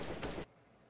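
A short burst of gunfire from the shooter game CS:GO, a few rapid close shots packed into half a second, then cutting off to near quiet.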